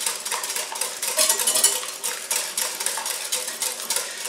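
Eggs being whisked for a butternut squash pie custard filling, a steady, fast scraping and clinking of a whisk against a bowl, close and continuous with no talking.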